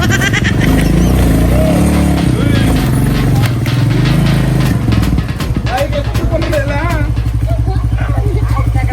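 A motorbike with its wheel wrapped in tape runs loud and close, its engine chugging in a steady rapid rhythm with clattering bursts, while people talk over it.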